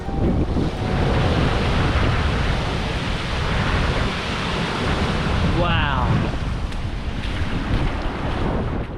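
Ocean waves surge and crash against sharp rocks at a rocky shore, a continuous loud roar of surf mixed with heavy wind buffeting the microphone, with no break throughout.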